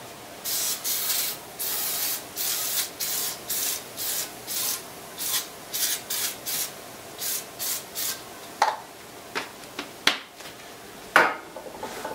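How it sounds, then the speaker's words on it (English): Pam cooking spray hisses onto an aluminum griddle in a string of short, even bursts, followed by a few sharper clinks and scrapes near the end. "This one's almost empty. Let's spray this one first."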